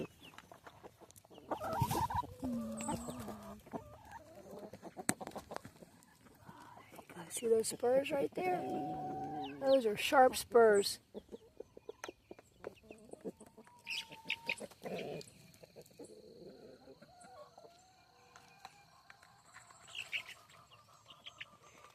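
Chickens and a large spurred rooster in a coop give scattered clucks and a few louder squawking bursts, close by, with someone talking at intervals between them.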